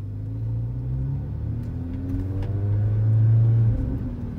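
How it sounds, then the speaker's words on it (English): A 2016 Mercedes GLA 45 AMG with a performance exhaust revs, a deep low rumble that swells and peaks near the end before easing off, loud and close with no talk. "Okay, let's give it some gas."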